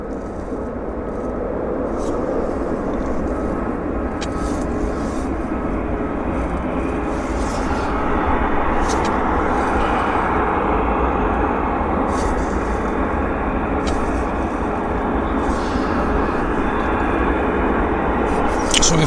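A WestJet airliner at Vancouver International Airport on a winter morning, its steady engine roar broad and continuous throughout, with people talking faintly underneath.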